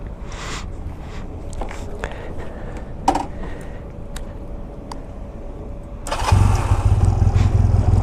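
A 2006 Honda Rebel 250 motorcycle is idling with a steady rumble and a few mechanical clicks. Near the end the engine fires harder and settles into a loud, close, throbbing run.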